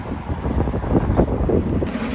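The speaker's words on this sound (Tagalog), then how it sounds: "Lakas pa ng hangin." Strong wind buffets the microphone in a steady low roar, rumbling and gusting throughout with no voices, on a cold day near the beach by Haedong Yonggungsa Temple.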